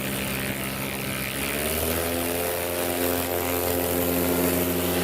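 A propeller-driven STOL aircraft powers up for takeoff at the Lonestar STOL competition finals, its engine a loud, steady drone with a rising buzzing pitch that stays close and continuous throughout, no talking.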